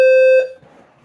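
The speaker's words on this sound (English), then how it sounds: "That's an emergency alert alarm to get out of the building." An emergency building evacuation alarm blares a single loud, harsh electronic tone at close range for under half a second, then cuts off and leaves faint room noise.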